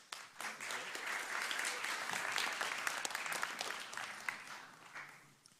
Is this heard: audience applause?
yes